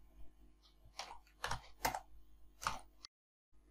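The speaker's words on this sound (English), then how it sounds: "Here I am typing some data to provide the links." Data is typed on a computer keyboard in a quiet room: a handful of soft, separate key clicks spaced irregularly over a few seconds, faint and close, then a brief silence.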